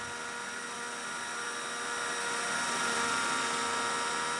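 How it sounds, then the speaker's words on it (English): A steady, dense helicopter whine with a broad rotor hum from the RealFlight 7.5 flight simulator game, continuous and gradually growing a little louder. "Wow, this thing is a lot of helicopter."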